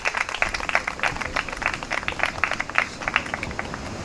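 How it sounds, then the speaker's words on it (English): An audience at an award ceremony claps in a lively, uneven burst of many hands, dense and fairly close, continuing without pause for several seconds. "let's give her another round of clap"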